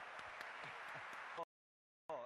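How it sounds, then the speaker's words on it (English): A crowd at the Nintendo E3 2011 press conference applauds the orchestra with steady, dense clapping, then the sound cuts off abruptly into silence before a short burst returns. "let's give a big round of applause for our orchestra today"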